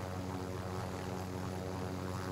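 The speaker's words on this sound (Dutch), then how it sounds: "Twee heli's voor ons." Helicopters in Call of Duty Warzone produce a steady, continuous rotor and engine drone that holds at an even level throughout, with no voices over it.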